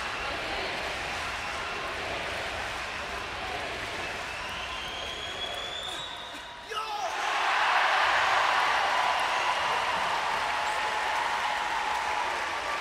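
A crowd applauds and cheers at a women's Paralympic sitting volleyball match between Great Britain and Japan in London, with steady loud clapping that dips briefly and then rises even fuller, while a commentator talks over it.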